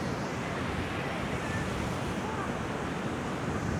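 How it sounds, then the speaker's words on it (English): Ocean surf rolls and roars onto a beach strewn with cabbage head jellyfish and Portuguese man-o'-wars, a steady, loud wash of breaking waves with wind buffeting the microphone throughout. "listening to the sea roar"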